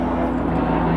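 A helicopter passes overhead, a steady loud rotor and engine drone that fills the whole moment without any talking.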